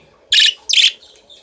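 Pet birds kept indoors give two loud, shrill screeching calls in quick succession, close to the microphone, followed by softer chirps.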